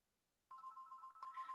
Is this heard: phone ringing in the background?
yes